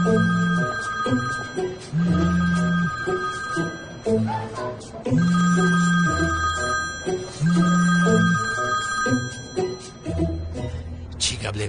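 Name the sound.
telephone ringing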